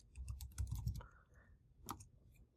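Fingers type on a computer keyboard, entering a username on a Mac while disabling System Integrity Protection in a quiet room: a quick burst of faint clicky keystrokes, then a pause and a couple more taps.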